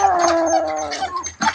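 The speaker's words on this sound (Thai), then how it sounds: "เด้อมาน้อยอย่าเห่าเสียงดังลูก" A dog at Wat Pong Chai temple in Chae Hom, Lampang, lets out a loud, drawn-out howling whine that wavers and trails off, followed by a brief sharper yelp near the end, with no talking.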